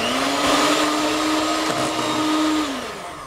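An electric mixer whirs steadily through aebleskiver batter with flour mixed in, a loud, continuous motor drone with a slight pitch dip near the end.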